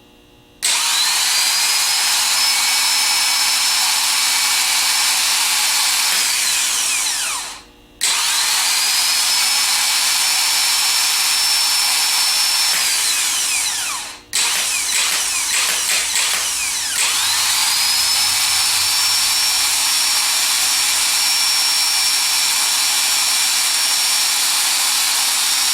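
A rebuilt Denso starter motor spinning freely on a bench, whining up to a steady high pitch in three separate runs, each winding down briefly before the next start.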